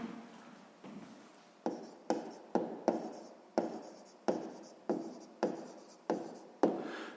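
Pen or pencil scratches on paper while a math exercise is worked out by hand, about a dozen short, close strokes at a steady rhythm in a quiet room.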